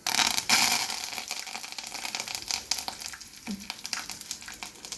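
Curry leaves crackle and hiss in hot cooking oil, a dense, bright frying sizzle that is loudest in the first second and then settles into a steady, fluttering spatter.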